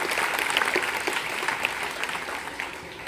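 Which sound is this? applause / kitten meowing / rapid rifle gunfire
applause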